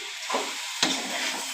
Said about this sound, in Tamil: நல்லா ஃப்ரையாக கிண்டுறோம்.